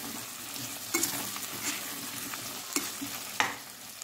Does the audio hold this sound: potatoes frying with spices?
yes